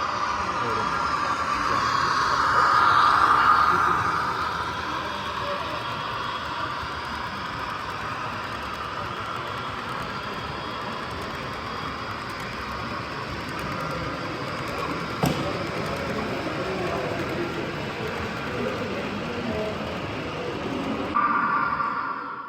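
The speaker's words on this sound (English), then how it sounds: "Here we get a better look at a Hughes Amtrak train." An Amtrak train with tilting cars rolls past on a branch line, a steady broad rumble and hiss holding for about twenty seconds with a brief louder swell near the start and a horn-like tone toward the end.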